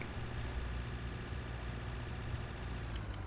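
Tractor engine in the farming simulator Pure Farming 2018, a steady low idling drone with constant mechanical hum, moderately loud and unbroken throughout, with no talking over it.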